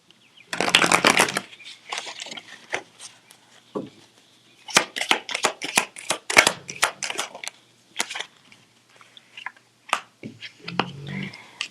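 Tarot cards are shuffled up close, opening with a dense riffling burst and continuing in a series of sharp, rapid snaps and flicks over several seconds, with no talk.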